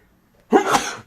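One sharp, close sneeze bursts out loudly after a moment of near silence, then trails off quickly.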